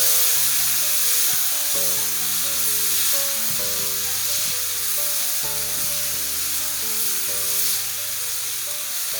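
Finely chopped medium tomato with salt frying in a pan for a Nepali-style Schezwan mushroom curry, a steady close sizzle throughout with occasional stirring clatter, no talking.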